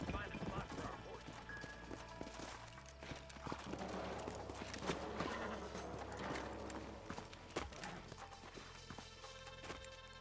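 Horses' hooves clip-clop steadily in the Red Dead Redemption video game on the Switch, a repeated trotting rhythm mixed with music and game sounds while characters talk over it.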